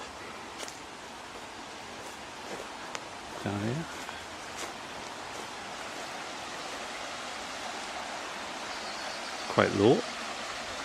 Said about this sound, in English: You can hear the river in the back.